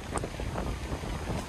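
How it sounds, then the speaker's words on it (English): Strong wind at a windsurfing spot buffeting the microphone in a continuous low roar and gusty rumble, with no voices. "Hopefully you guys can hear me, it's pretty windy."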